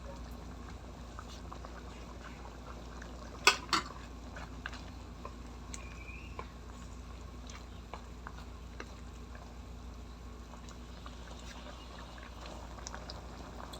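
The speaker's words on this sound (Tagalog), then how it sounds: "Ihalo lang." Sweet and sour sauce for pompano bubbling gently in a pan as it is stirred, with a couple of clinks from the utensil early on, then a faint, steady simmer close by, no talk.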